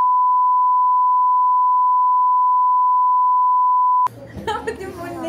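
A steady, loud censor beep tone holds unbroken for about four seconds, then cuts off abruptly as a voice starts talking.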